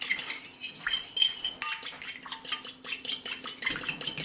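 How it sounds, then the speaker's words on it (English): Olive oil dressing for a veggie salad is whisked in a bowl, with quick, rhythmic scraping and light clinking of the utensil against the dish, close and steady. "Keep mixing this up and it's going to emulsify and it's getting thicker."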